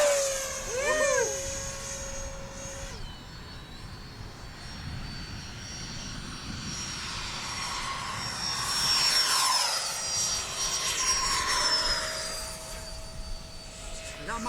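An E-flite Habu STS 70mm electric ducted-fan model jet whines at half throttle, a steady airy roar rising and falling as it passes overhead, with excited voices calling out around it.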